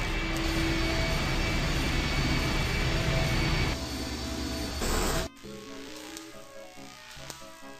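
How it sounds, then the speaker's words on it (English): A machine engine starts up in the adventure game I Have No Mouth, and I Must Scream, a loud steady roaring whine that shifts pitch, then drops abruptly to a quieter hum. "The engine's starting up again."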